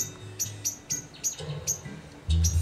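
A bird chirps in short, bright tweets, about eight spaced calls over a few seconds, moderately close, with low rustling and a thud-like burst near the end.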